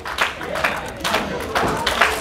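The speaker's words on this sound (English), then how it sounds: "clapping away, trying to will him back" At an ARWPRO wrestling match, the crowd claps in steady rhythmic unison to rally a wrestler, each clap landing about twice a second beneath a commentator talking.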